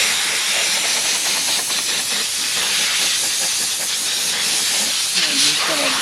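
An air blower is used to blow debris out of parts of a Kubota B2650 tractor during its 200-hour service, giving a loud, continuous rushing hiss that holds steady and close by throughout.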